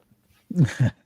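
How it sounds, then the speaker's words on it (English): A dog wearing a hoodie gives two short, close whining vocal sounds in an otherwise quiet indoor space. "I promise you, that's the dog."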